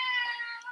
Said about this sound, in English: Sorry if you hear my cat.